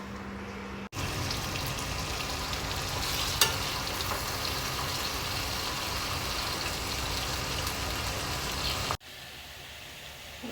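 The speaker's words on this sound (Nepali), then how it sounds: "यसरी फ्राई गर्ने। अब यो निकाल्ने। आलु पनि यसरी फ्राई गर्ने।" Pointed gourd (parwal) and potato pieces fry in hot oil in a pan, giving a loud, dense, steady sizzle that runs unbroken for about eight seconds, with a brief sharp clink near the start and no talking.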